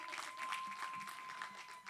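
Applause rises from the audience at a girls' empowerment summit as a mentor is introduced, a fairly faint, sustained patter of many hands heard at a distance, with a steady tone running underneath.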